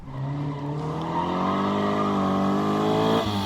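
A Caterham Seven sports car engine drones loud and close, its pitch climbing steadily as it accelerates, like a small track car pulling hard on a short circuit, then it briefly drops near the end.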